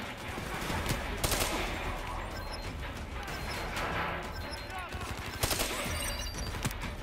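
Gunfire in Call of Duty: Black Ops III rattles in repeated rapid bursts, with sharp, loud shots and crashes over a busy, noisy battlefield backdrop and some voice activity mixed in.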